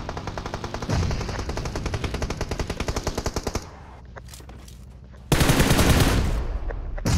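Automatic gunfire in PUBG Mobile: a fast, steady stream of loud rapid-fire shots for several seconds, a brief quieter lull with scattered sounds, then another intense close burst of firing.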